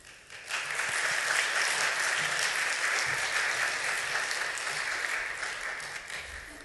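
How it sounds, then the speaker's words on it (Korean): Applause from a church congregation at a Saturday dawn service welcoming a deacon to the pulpit, a dense, steady clapping that swells in quickly, holds loud for several seconds, then tapers slightly at the end. "올라오실 때 격려의 박수로 맞이해 주시기를 바랍니다."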